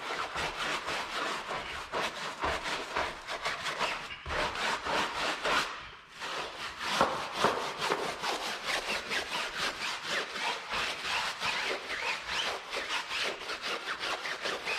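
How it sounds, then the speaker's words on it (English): A brush scrubbing a tire coated with cleaner, a rapid rhythmic back-and-forth rasp that continues steadily and close up, with one brief pause around the middle. "It's time to scrub."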